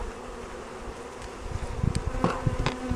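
Package honey bees buzz steadily around a hive box being installed, a close, continuous drone with louder individual bees swelling past toward the end.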